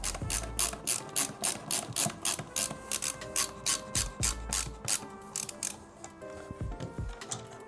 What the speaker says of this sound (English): then we can screw in the screw